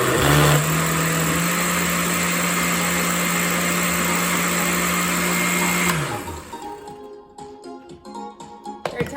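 A blender whirs steadily at high speed, mixing a vegan blueberry dragonfruit smoothie with added lemon juice, then stops abruptly, leaving faint clinks and rattles of the jar.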